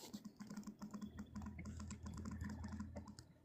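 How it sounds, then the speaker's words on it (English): Rapid keyboard typing comes through an open microphone during an online panel call, a steady run of quick clicks and taps with a low hum underneath, and no one talking. "I can hear you typing, Cade."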